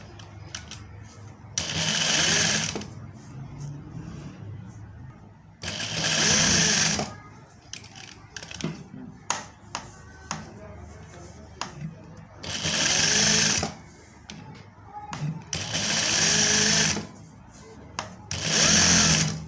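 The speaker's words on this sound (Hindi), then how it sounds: "इस वजह से मुझे इस पर सिलाई लगानी होगी।" A sewing machine stitches fabric for a neck (gala) finishing strip in short loud bursts, five runs of a few seconds each, with quieter handling sounds and a voice speaking in the gaps.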